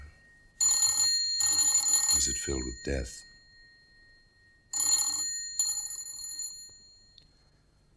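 Old-fashioned telephone bell ringing in an empty house, two bursts of bright metallic trilling separated by a pause, with a voice speaking briefly between the rings.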